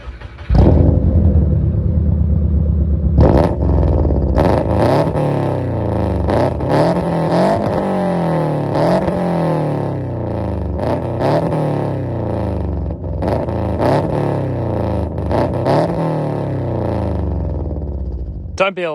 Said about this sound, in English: I suppose you'll probably be wanting to hear how that exhaust sounds.